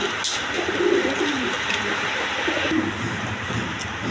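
A pair of pigeons, including a silver male, coo softly in short low bursts over steady background rumble, with no talking.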